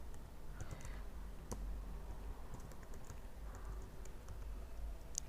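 Quiet, steady typing on a computer keyboard while a password is entered, with soft rapid key clicks in an even patter and a few sharper taps, close and alone without speech.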